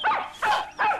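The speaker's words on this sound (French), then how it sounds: "mais c'est le chien de la ferme" A farm dog in a French animated cartoon barks three times in quick succession, sharp and close, with no other sounds around it.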